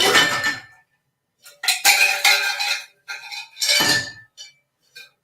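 Ice cubes are stirred in a glass for a mixed drink, clinking close and bright in several short bursts separated by brief pauses, with no talking.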